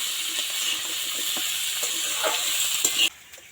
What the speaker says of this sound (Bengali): এবার এই আলু আর ডুমুরটাকে একটু নাড়াচাড়া করে ভাজা ভাজা করে নেব